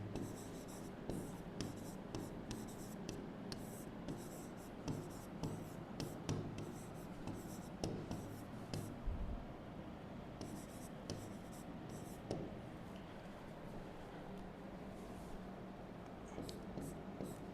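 Pen on paper writing out an English sentence by hand, a faint close series of quick scratchy strokes and taps in irregular bursts, quiet and without talk.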